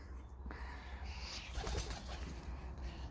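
Pigeons in a loft, soft cooing and low bird calls with a brief flutter of wings, close and fairly quiet against a steady room hum.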